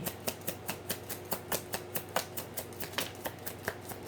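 Repeated crisp riffling snaps of tarot cards being shuffled, a steady quick rhythm of bursts, close and clear with no talking.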